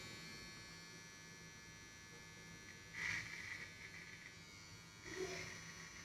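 An electric beard trimmer runs with a faint, steady buzzing hum, close by, with two brief louder moments as the blades meet hair, and no talk.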